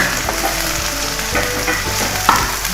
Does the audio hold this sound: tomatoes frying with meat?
yes